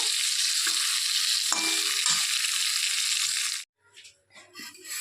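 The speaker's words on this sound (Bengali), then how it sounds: "তো এগুলোকেও সেম লাল করে ভেজে নেব আগের মতো।" Vegetables frying in a pan for a Bengali eggplant dish, a steady close hiss of sizzling oil with occasional stirring scrapes, cutting off abruptly into quieter clatter near the end.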